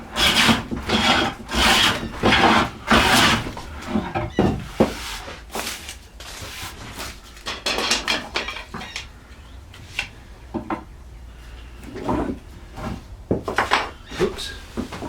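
A hand plane is pushed across a wooden board to take out wind and bow, making a series of loud, rhythmic rasping strokes with short pauses between passes.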